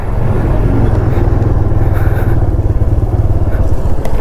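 A TVS motorcycle rides through a flooded, waterlogged road in first gear with skidding wheels, its engine a loud, steady close-up drone with rumbling churn throughout.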